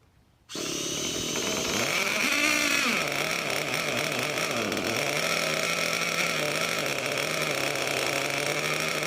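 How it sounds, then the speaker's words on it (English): A Dynamite .31 gasoline model engine running during break-in bursts to life after a moment of quiet, then buzzes loudly and continuously, its pitch swooping up and down as the throttle changes before settling into a steady high whine. "Just kind of do whatever you got to do to keep the engine going at first until it gets warmed up good"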